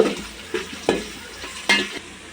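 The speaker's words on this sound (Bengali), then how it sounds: "তো পেঁয়াজটাকে হালকা ভাজা দিয়ে নিব।" Onion frying lightly in oil with bay leaves in a pan for hilsa khichuri, a steady close sizzle broken by several louder stirring scrapes.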